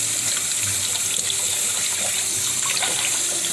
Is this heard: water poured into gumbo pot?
yes